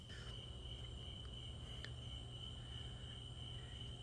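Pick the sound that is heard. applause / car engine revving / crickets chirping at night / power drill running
crickets chirping at night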